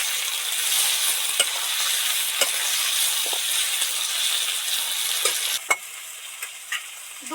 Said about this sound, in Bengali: এবার 2-4 মিনিট সুন্দর করে নেড়ে নেড়ে কষতে থাকবো।